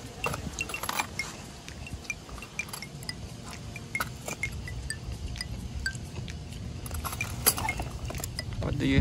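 Spoon and chopsticks clink against dishes and containers at an outdoor picnic in Century Park, Shanghai, in frequent light taps and jangles under soft background noise.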